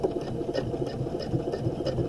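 A domestic sewing machine runs steadily for a couple of seconds as it back stitches the end of a seam, a close, even mechanical whir with a fast rattling pulse.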